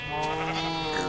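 Sheep bleating in the video game Minecraft, a steady, loud, nasal bleat with a wavering pitch that runs continuously through the short moment with no talk over it.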